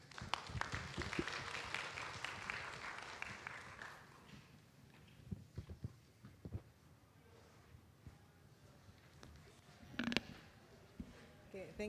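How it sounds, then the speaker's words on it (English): Audience applause at an orientation day for international students, a dense burst of clapping for the first four seconds that fades into scattered claps and room noise, with a brief louder clap near the end. "Please give her a big applause."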